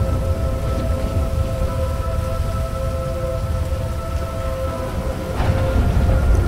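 Steady rain pours down in GTA 5, a continuous hissing downpour with a faint low rumble, swelling slightly toward the end, with no voices.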